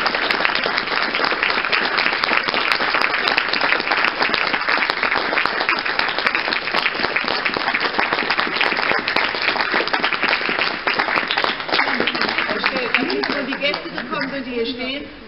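Vigorous audience applause after a peace-themed musical performance held in a tunnel, a loud, dense, continuous clatter of many hands that fades near the end as voices begin to emerge.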